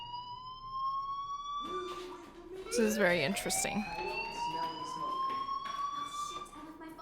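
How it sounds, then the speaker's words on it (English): A fire alarm in the video game Life is Strange wails with a steady, rising electronic tone that runs throughout, while someone talks over it. "Hey, do you hear that fire alarm?"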